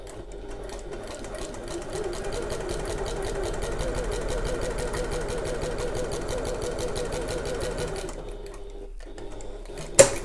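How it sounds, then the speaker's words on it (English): A sewing machine top stitching a messenger bag close to the edge, running in one steady fast rhythmic whir of needle strokes for about eight seconds before stopping, close and clear. "just do a really tight top stitch. So close to the edge without going over, using your regular sort of top stitching stitch length"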